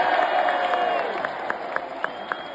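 A large WWE arena audience in London fills the air with a steady roar of cheering and applause for Cody Rhodes, punctuated by rhythmic chant-like pulses near the end; sustained and dense throughout.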